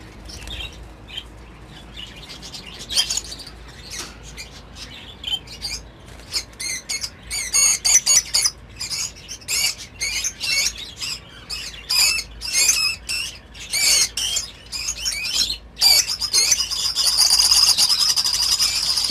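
A female budgie gives loud, rapid squawks and chirps at close range while being caught by hand, the harsh calls coming in bursts along with faint fluttering.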